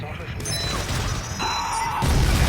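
Explosion in the video game Dead Space 3, a loud, dense blast with crashing debris that swells at the end, sitting in a busy game mix.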